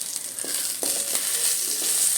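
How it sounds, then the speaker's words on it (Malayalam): Shallots dropped into hot oil for piranda chammanthi, frying with a steady, bright sizzle and a few soft clinks and stirs, close by with no talking. "ഇനി നമുക്ക് ഉള്ളി ഇട്ട് കൊടുക്കാം"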